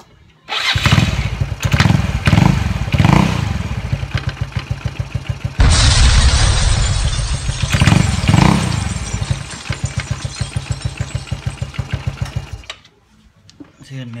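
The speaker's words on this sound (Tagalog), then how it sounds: "pakinggan natin kung yung ingay ng aking panggilid" Yamaha Mio Sporty scooter with a noisy CVT pulley runs close by, its engine buzzing steadily and then revving up hard in the middle before dropping back to a rapid, fluttering idle rattle that stops near the end.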